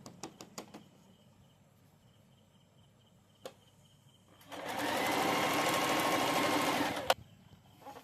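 A few sharp clicks and taps come first, then a sewing machine stitching a salwar cuff whirs in one steady burst of about two and a half seconds before stopping with a click, close and clear.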